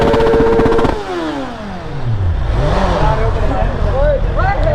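Superbike engine, a BMW S1000RR or Kawasaki ZX-10R, revving hard on a road ride, loud and close with a falling then rising pitch as the bike speeds past, with people talking over it.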